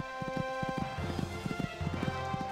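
Horse hooves galloping in the Horse Olympics game, a quick steady run of thudding beats under a sustained music or ambient tone, close and moderately loud.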